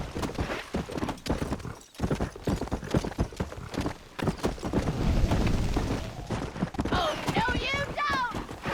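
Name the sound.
horses galloping in a race, from the video game Red Dead Redemption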